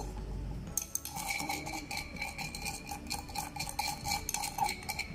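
A sand and salt mixture being stirred in water in a container, making repeated rhythmic clinks and scrapes of a utensil against the sides, fairly quiet and close, with no talking.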